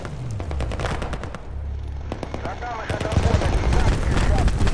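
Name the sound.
gunfire in a counterinsurgency wargame video game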